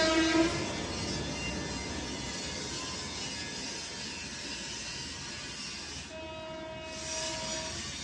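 A train horn sounds near a moving train, a sustained tonal blast over steady rail rumble and clatter, with a second horn note rising briefly toward the end; no one speaks.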